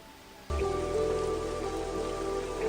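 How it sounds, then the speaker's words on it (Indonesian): Rain starts abruptly and keeps falling, a dense, loud steady patter on a surface with no break. "namun lagi-lagi hujan turun."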